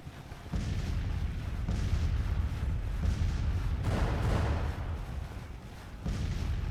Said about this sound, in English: Artillery is actually having a pretty good effect right now.